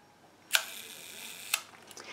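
Two sharp mechanical clicks about a second apart, a Petri rangefinder film camera shutter opening and closing at half-second speed, close up against faint room hiss.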